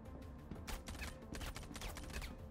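Several gunshots ring out in quick, irregular succession during a firefight in the video game Star Citizen, sharp cracks standing out over low background hum at fairly quiet overall level.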